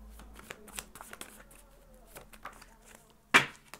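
Tarot cards being shuffled and handled in a reading, a quick run of soft papery riffles and taps ending in one louder, sharper card snap near the end, with faint background noise.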